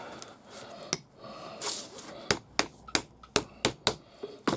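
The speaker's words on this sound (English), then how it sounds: "keep going round, hammering it about" A hammer shapes leather around a scabbard in a series of sharp, close taps. They start sparse and then come in a quicker, irregular run over quiet workshop background.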